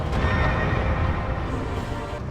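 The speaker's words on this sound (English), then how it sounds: "You'll hear it crash, and the horse will be clinging on the edge for dear life." A horse in the video game Dark Souls II whinnies after its chariot crashes in a boss arena. One loud, close whinny runs with some hoof clatter and fades slowly across two seconds.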